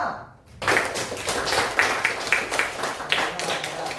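A school class claps for a student group, with a brief quiet start followed by uneven, fairly close clapping in clustered bursts from many hands.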